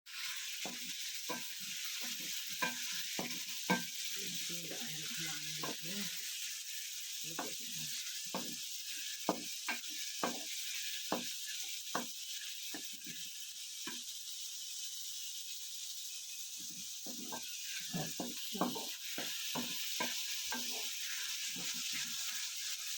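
Chicken pieces frying in a wok with browned garlic give a steady, soft sizzle, broken by frequent sharp clacks and scrapes of stirring, heard nearby without speech.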